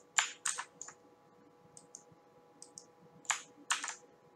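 Computer keyboard shortcuts typed close by: a few scattered key presses and pairs of clicks with short gaps, fairly quiet, with no voices.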